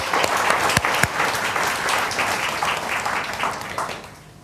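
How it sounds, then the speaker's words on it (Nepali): A crowd at a Christian sermon claps steadily for a few seconds, a dense round of applause that fades slightly at the end. "त्यो भलो परमेश्वरलाई ताली बजाइदेऊ न एकचोटि"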